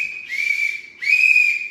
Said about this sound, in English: 3 blows of the whistle